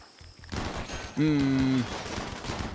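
Turret gunfire in Rimworld rattles in a rapid, continuous stream of shots, with a loud tonal whine riding over the firing for about half a second before the chatter carries on.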